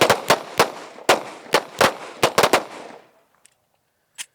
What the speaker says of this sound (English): Stand by, ready, up on target, find your front sight, press your 2 shots.